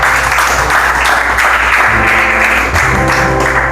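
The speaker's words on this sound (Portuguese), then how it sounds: "Palmas bem alegres para Jesus." A church congregation at a Sunday service claps joyfully for Jesus, a dense, steady wash of many hands filling the room close and loud throughout, with a faint tonal hum of music or voices underneath.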